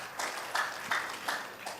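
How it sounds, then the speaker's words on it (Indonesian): Scattered applause from a church congregation, a few quiet bursts of hand clapping coming in spaced waves, faint and somewhat distant with no talk over it. "beri tepuk tangan yang meriah bagi Tuhan kita"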